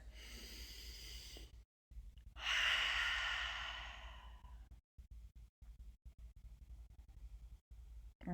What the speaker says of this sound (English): I'm going to take a deep breath first.